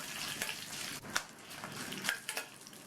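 Lentils with dried red and slit green chillies sauté in a pan for chutney, giving a soft continuous sizzle broken by a few clinking stirs of a spoon, quiet and close, with no talking.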